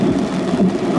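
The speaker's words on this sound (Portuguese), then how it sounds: "tá chovendo muito" Heavy rain pours down in a steady, dense roar with no breaks, loud and close, filling the short stretch.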